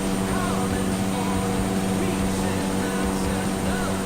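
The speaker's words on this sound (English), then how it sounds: "I love the sound of a P38, especially engines running pretty good." Twin piston engines of a Lockheed P-38 in Microsoft Flight Simulator give a loud, steady droning hum with a constant low throb, filling the whole stretch without pause.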